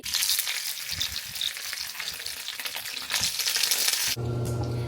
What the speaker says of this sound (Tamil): ஒரு கொஞ்சம் எண்ணெயை விட்டு ஒரு கொஞ்சம் ஒரு வதக்குற மாதிரி போட்டு எடுத்து விட்டா சரி